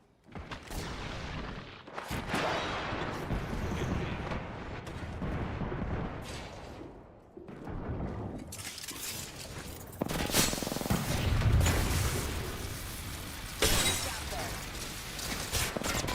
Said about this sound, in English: Nice nades coming out here.